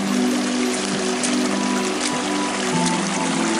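Someone wades through a shallow creek on a nature walk, water sloshing and trickling steadily around the legs in a continuous close wash, with no talking.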